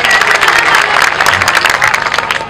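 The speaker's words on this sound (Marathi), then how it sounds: "इकडं साऊंड सिस्टीमसाठी सगळ्यांनी जोरदार टाळ्या वाजवा." A packed audience at a traditional bharud folk performance in Bhalegaon Bazar claps loudly and steadily, a dense, close wall of applause that runs unbroken from start to finish.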